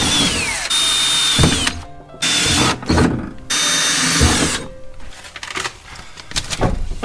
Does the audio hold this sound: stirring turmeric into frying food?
no